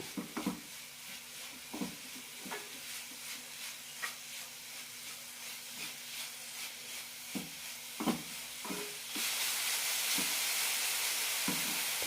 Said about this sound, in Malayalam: ഒരു ടീസ്പൂൺ കസകസ ഇടുന്നുണ്ട് രണ്ട് മിനിറ്റ് കൂടി നന്നായി റോസ്റ്റ് ചെയ്യാം